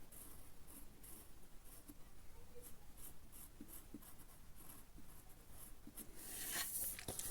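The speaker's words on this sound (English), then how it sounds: "here I'm going to draw" A pencil sketches a hand on a fashion croquis figure, faint soft scratching strokes close by, with a louder rub of the pencil near the end; no talking.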